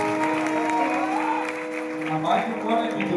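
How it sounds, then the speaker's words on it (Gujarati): A large crowd at a Gujarati mass wedding claps steadily and densely, the applause rolling on throughout while a voice speaks over it through a loudspeaker. "જોરદાર તાળીઓના ગડગડાટથી વધાવો દીકરીઓના."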